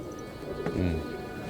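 Pigeons from Duke Riley's Fly By Night flock cooing outdoors, a low soft coo swelling briefly over a constant crowd murmur and ambient noise.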